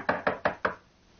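Police knock on a door, four firm knocks in quick even succession, close and clear, followed by quiet.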